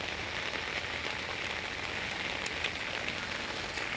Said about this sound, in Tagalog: Grabe guys, lakas ng ulan.